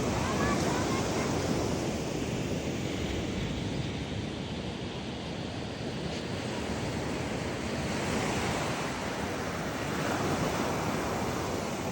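Ocean waves wash continuously onto a sunny beach, a steady broadband roar of surf with gusty wind noise buffeting the microphone throughout.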